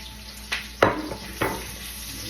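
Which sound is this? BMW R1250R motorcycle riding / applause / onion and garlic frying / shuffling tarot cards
onion and garlic frying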